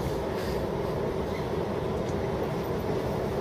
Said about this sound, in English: It's an endless cargo train.